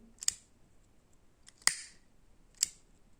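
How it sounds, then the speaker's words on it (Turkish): Small scissors snipping thread on a piece of needle lace, three crisp isolated cuts spaced about a second apart, close up against a quiet background with no talk. "Şimdi diğer kanadı şu şekilde kesiyorum buradan ipleri."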